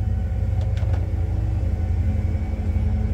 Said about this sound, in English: She's pumping again. I like these low water bilge pumps.